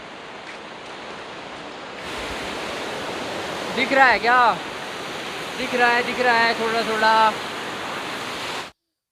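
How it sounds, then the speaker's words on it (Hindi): The Mandakini river rushes as a steady, broad roar along the Kedarnath trek near Sonprayag. Two people speak briefly over the constant noise of the water. "मंदाकिनी नदी है।"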